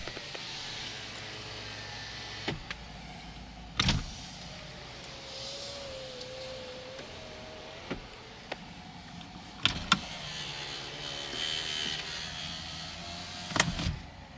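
Auto power windows on a 2003-2009 Toyota 4Runner hum up and down in several separate runs, each ending in a sharp thunk as the glass seats, with quiet cabin background between.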